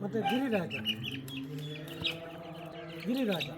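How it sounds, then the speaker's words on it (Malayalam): Native country chickens cluck and call close by, with a drawn-out crowing-like cry at the start and end; a voice talks briefly amid the birds. "കരിങ്കോഴിയാണോ? നാടൻ കോഴി."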